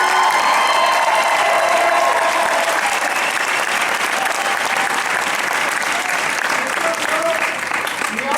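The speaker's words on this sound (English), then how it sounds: "Give yourself a big applause." An audience at an RST event in Indianapolis applauds, with sustained loud clapping from a large crowd and scattered cheers and voices mixed in throughout.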